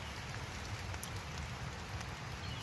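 Steady rain patters on a tent pitched at a riverside campsite along the North Fork of Asotin Creek, a soft continuous hiss with no voices.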